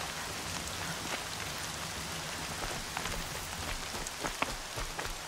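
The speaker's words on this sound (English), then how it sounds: "More rain. My boots will get damp." Steady rain pattering in the video game Horizon Zero Dawn, a dense continuous hiss of drops with occasional sharper individual splashes, no voices.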